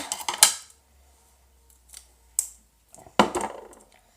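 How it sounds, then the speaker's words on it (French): Scissors cutting a strip of tape: several sharp snipping sounds in short bursts separated by pauses, close by, with a crisp cluster near the start and another later. "Donc là on va couper une bande de scotch."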